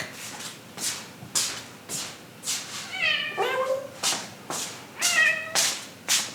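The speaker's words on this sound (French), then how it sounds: "J'ai mon chat qui fait la bande son" A cat meows twice, with clear rising-falling cries, amid repeated soft rustling or brushing noises at a steady rhythm.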